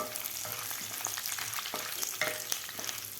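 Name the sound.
curry leaves frying in oil with roasted chana dal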